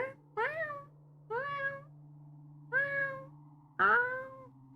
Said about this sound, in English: You hear a cat crying. Oh, that's probably one of my cats.